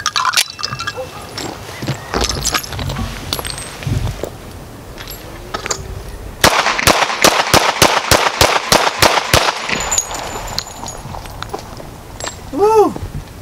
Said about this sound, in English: Let's see how fast we can get 10 rounds out of this thing.